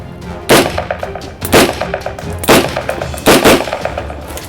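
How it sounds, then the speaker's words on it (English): A semi-automatic gun fires four loud, sharp shots spaced about a second apart, each with a brief metallic ring, and no voices. "We take a first round in the chamber, and then in a semi-automatic mode we can shoot."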